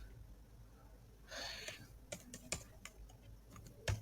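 Fast typing on a computer keyboard while entering data into an Excel spreadsheet, a quiet run of close, irregular clicks and taps with a few louder keystrokes, heard alone.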